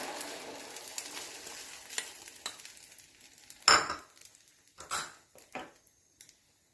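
Beaten egg mixture poured into a hot pan with fried egg pieces, giving a steady soft sizzle with a few sharper clatters and scrapes of utensils near the end, no talking.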